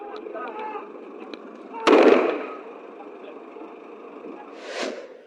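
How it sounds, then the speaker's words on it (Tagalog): A single sharp bang of gunfire cuts through a background of low voices, followed by a fainter burst a few seconds later. "Umalingaw-ngaw na ang mga putok ng baril"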